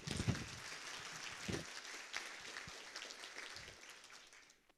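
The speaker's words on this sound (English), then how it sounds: "So please give them a round of applause" Audience applause for two interpreters at a mayoral event's concluding remarks: a steady, moderately loud patter of many hands clapping that holds for several seconds, then thins and fades toward the end.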